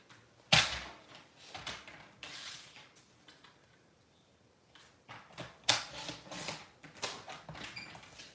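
Paper card for a handmade card is cut with several separate snips and slicing strokes, with sharp bursts between quieter pauses, heard close with no talking.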